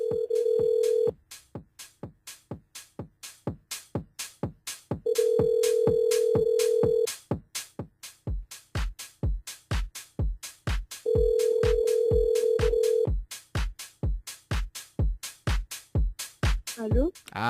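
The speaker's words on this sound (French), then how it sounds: "Mais il est bien sur le portable de Julie?" A phone line rings during a live radio call to a mobile phone: three long, steady ringback tones about four seconds apart, with a rhythmic beat of studio music pulsing between and around them.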